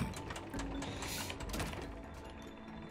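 Mechanical clicking and ratcheting from screws being tightened in the co-op game It Takes Two, a busy run of small gear-like clicks and rattles layered over steady game background.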